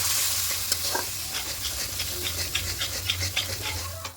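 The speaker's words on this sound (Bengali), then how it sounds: "এবার মশলাটা খুব ভালো করে কষিয়ে নেব" Ground coriander, chilli, cumin and turmeric with a splash of water sauté in a pan, a close continuous sizzle broken by quick rhythmic scrapes of a spatula stirring, no talk.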